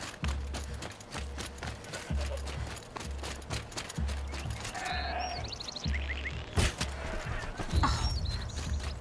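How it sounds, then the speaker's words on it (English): Goat bleating in the Horizon Zero Dawn video game, with a few short bleats over steady rhythmic hoofbeats and game ambience, moderately loud and close. "It's a goat! I'm pretty sure that wasn't a thing before."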